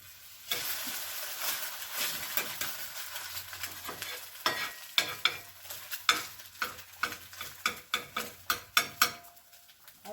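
An egg cooking in a pan on a small wood-burning stove, soft frying hiss under a run of sharp clicking scrapes and taps of a utensil against the pan, growing busier toward the end.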